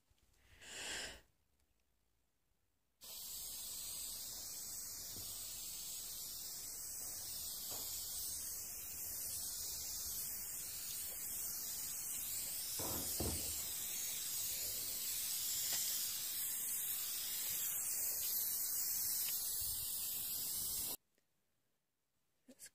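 Aerosol can of spray varnish being sprayed onto paintings: one long continuous hiss lasting about eighteen seconds, steady and close, preceded by a short puff and followed by quiet.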